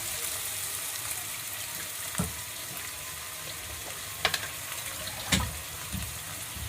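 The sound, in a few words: tomatoes frying in hot oil with onions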